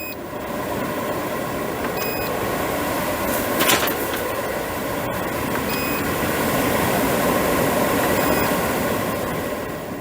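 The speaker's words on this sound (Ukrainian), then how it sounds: "Зараз запишемо е, звук, як працює двигун" A Fabiano BoxPro Silent Inox kitchen range hood motor runs with a steady, airy whirring drone, close and constant, with a few faint electronic beeps.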